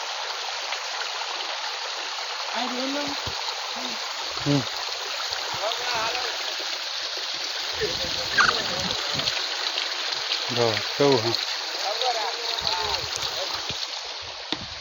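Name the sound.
flowing water stream at Girnar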